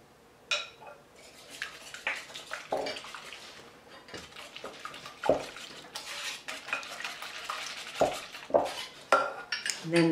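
Muffin batter being whisked as a cup of milk goes in for lemon poppy seed muffins, with a steady scrape and clink of whisk against the bowl and a few sharper knocks, close and moderately loud, no talking.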